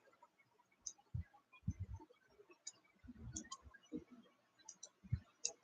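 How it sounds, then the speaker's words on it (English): A computer mouse clicks several times, soft close taps scattered irregularly over a quiet room with faint low thumps in between. "Let me just click on it real quick."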